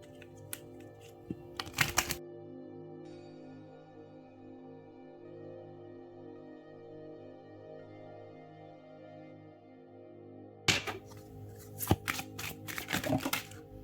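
Tarot cards are shuffled in two short bursts of quick riffling and flicking, close and crisp, separated by a long quieter stretch with a faint steady hum.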